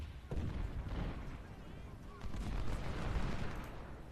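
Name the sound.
gunfire in video game Ultimate General: Civil War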